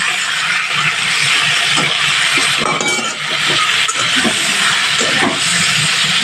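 Chicken pieces fry loudly in a pan of hot oil, a dense continuous sizzle and hiss with scattered crackles and a few clinks of utensils, close up and without speech.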